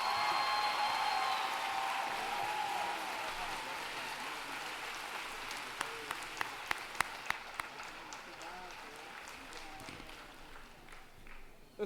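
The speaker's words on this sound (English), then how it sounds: "Let's give Mr. Young another round of applause for those outstanding remarks." Commencement audience applauding at a 2017 DSU graduation ceremony, a dense wash of many hands clapping across a large hall, steady at first, then thinning and fading out, with a few louder individual claps standing out near the end.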